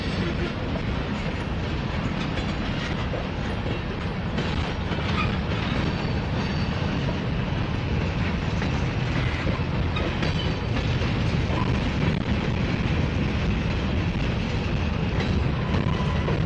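A heavy freight train rolls past continuously on the rails, with a steady loud rumble and rhythmic clattering of wheels over track joints.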